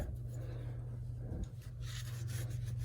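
A cloth wipes the mating surface of an automatic transmission's pan area clean on a 1997-2002 Dodge Ram, producing a faint, steady rubbing over a low background hum.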